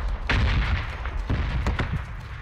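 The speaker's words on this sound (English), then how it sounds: "Skyting over elva." Rapid bursts of video-game gunfire crackle from across a river, several sharp shots landing in clusters over a steady low rumble, moderately loud and with no talking.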